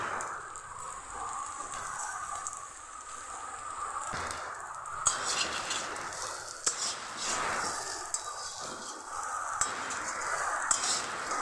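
Spiny gourd (kakrol) fries over a medium gas flame, a crackling, rain-like sizzle broken by scraping bursts as the pan is stirred.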